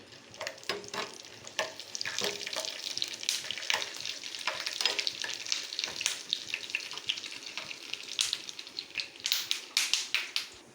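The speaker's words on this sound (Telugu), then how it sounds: "నెయ్యి వేసాను రెండు డ్రై ఫ్రూట్స్ మీకు ఇష్టమైన డ్రై ఫ్రూట్స్ వేసి వేయించుకోవాలి" Dry fruits fry in ghee in a pan, giving a busy crackling sizzle close up, broken by repeated scraping stirs at an uneven rhythm.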